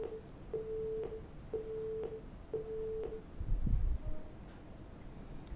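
A telephone line tone repeats in even beeps, roughly four or five short pulses, as a caller to a radio phone-in programme fails to connect, followed by a brief low thump and quiet.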